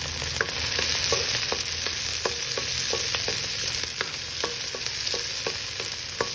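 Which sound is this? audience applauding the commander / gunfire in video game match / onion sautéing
onion sautéing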